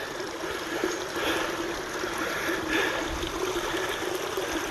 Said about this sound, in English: this is where the creek kind of starts